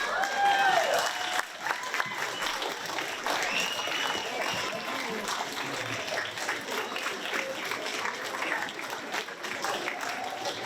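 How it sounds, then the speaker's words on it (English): Sustained applause fills an elementary school graduation hall as graduates turn to clap for their families, a dense even patter with crowd murmur and scattered voices throughout. "give all of you a round of applause"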